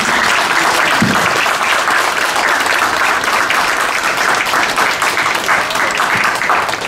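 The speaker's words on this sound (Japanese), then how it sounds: "最後に川崎さんにもう一度拍手をお願いします。" An audience at a gallery talk gives a sustained round of loud, dense clapping that stays even and continuous from start to finish, with no voices rising above it.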